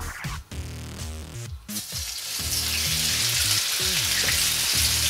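Cuttlefish pieces hit very hot oil in a paella pan, starting with a few stirring clatters before a loud, steady sizzle and crackle of frying builds and holds close up.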